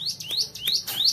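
A caged bar-winged prinia songbird, fed mealworms, chirps in four quick rising tweets at an even, rapid rhythm, close and clear with no talking.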